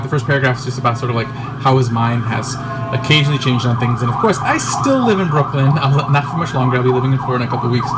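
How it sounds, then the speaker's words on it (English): Emergency vehicle sirens wail outside in Brooklyn, rising and falling faintly in the background beneath a man's continuous close speech. "if you hear sirens in the background"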